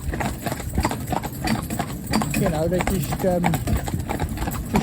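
A horse's hooves clip-clop steadily on a road while pulling a carriage, close and rhythmic, with someone talking over them.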